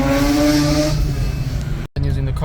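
A Mazda RX8 rotary engine revving up, a loud raspy rise that drops off abruptly before picking up again, with a voice talking over it.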